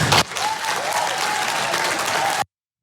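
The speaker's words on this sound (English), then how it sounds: "she was met with applause" An audience applauds school teacher Ellie Holland after she questions a senator. Steady, dense clapping from a sizable crowd with a raised voice calling out above it, all of it stopping abruptly into silence.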